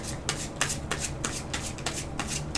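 Playing cards for the Dark Souls board-style card game being shuffled, a series of crisp riffling bursts repeating roughly every third of a second, close and steady, with no voices.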